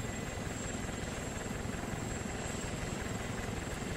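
Military helicopters flying overhead in a combat zone, a steady loud rotor and engine drone holding throughout without breaks, with no talk.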